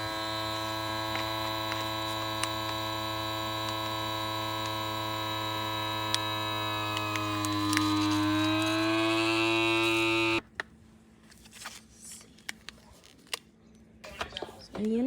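A small, cheap vacuum sealer runs with a steady, loud electric hum and whine that rises in pitch near the end, then cuts off abruptly, leaving faint clicks and handling noises.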